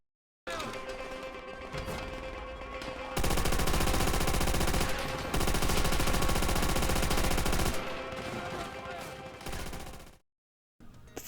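Machine-gun fire rattles in a dense, loud burst during a WWII sniper video game firefight between German and Russian troops, with rapid continuous volleys and other gunshots before it cuts to silence.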